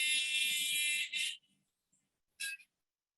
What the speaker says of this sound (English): you should be able to hear the buzzer.